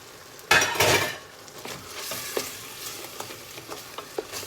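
Meat stirred in a pot, starting with a loud scrape and clatter of the spoon against the pot, then a soft continuous simmer and sizzle with a few light clinks.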